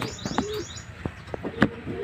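A banded racing pigeon gives soft, close coos, with a few brief chirps scattered across two seconds.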